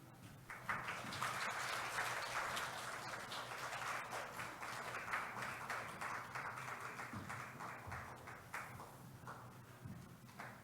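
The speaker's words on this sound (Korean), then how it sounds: "박수로 격려해 주시면 좋겠습니다" A congregation claps together during a Sunday morning church service, a dense, steady wash of applause that fills the room for about ten seconds before tapering slightly at the end.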